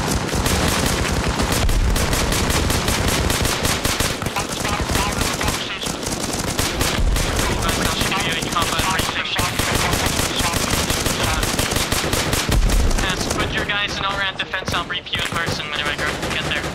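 Sustained automatic weapons fire from a firefight in the military video game Arma Reforger, set in Iraq, with dense overlapping bursts and rattling shots filling the whole stretch at close range, loud and continuous, with a voice faintly mixed in.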